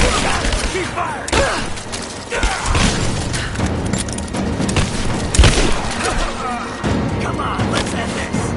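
Gunfire in the video game Rise of the Tomb Raider: bursts of shots and thudding impacts mixed with combat noise and voices, fairly loud, with a sharp heavy hit near the middle.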